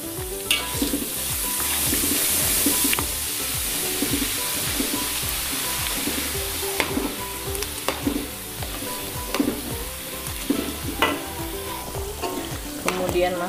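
Garlic fries loudly in oil for a sambal cakalang. The dense, crackling sizzle is broken by repeated scraping strokes of stirring in an irregular rhythm, with no talk.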